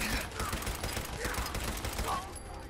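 Rapid bursts of gunfire in the video game Fallout 4, overlapping volleys of many bullets firing at once, loud and sustained through the whole stretch.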